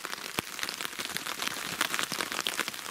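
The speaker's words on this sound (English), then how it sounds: "the rain on the tarpaulin there" Heavy rain drums on a tarpaulin at a wild camp on Dartmoor, a dense close patter of many drops with sharper individual taps, steady and loud throughout.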